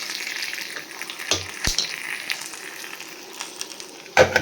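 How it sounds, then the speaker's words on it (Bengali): Small fish frying in a pan, a steady close sizzle and crackle with a couple of sharp pops and clatters, no voices. "এটা ভাজি, ছোটো ছোটো মাছগুলো আজকে রান্না করছি"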